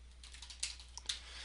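Light typing on a computer keyboard during a paint program session, a faint, quiet run of soft clicking keystrokes with a couple of slightly sharper taps, heard alone against low background hum.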